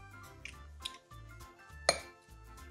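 Cream, mayonnaise and pepper sauce mixed in a bowl: a few clinks and taps of a utensil against the dish, one sharper clink standing out, over quiet background music.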